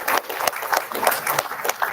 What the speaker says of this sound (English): Let us invite Dr. M. William Carey with our clap.